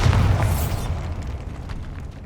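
The Bombarda spell going off in Hogwarts Legacy, one deep booming blast at the start that rumbles and fades into a low, noisy decay over about two seconds.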